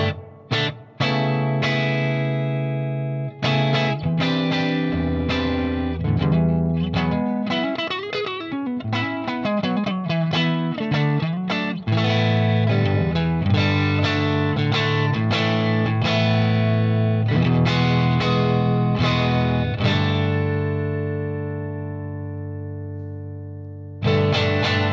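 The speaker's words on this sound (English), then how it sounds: "this amp's got like a reverb built in as well. It's not a spring reverb." Electric guitar played through a Marshall Vintage Modern amp with its built-in hall-style reverb, giving a sustained, distorted tone of chords and runs that ring out and trail away, steady and fairly loud with no talking.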